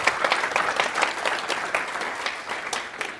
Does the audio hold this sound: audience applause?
yes